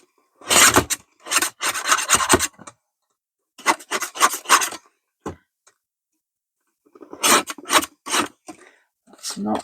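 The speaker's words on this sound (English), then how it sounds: "that's needing a bit of a sawing action with the blade" A blade saws roughly through fabric in three bursts of quick rasping back-and-forth strokes, close by, separated by short silent pauses.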